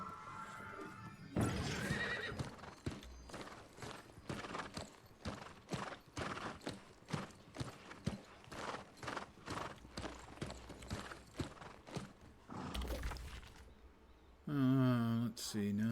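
A horse in the New World video game trots with steady, rhythmic clip-clopping hooves, then lets out a loud, shrill whinny near the end, heard up close with no talking.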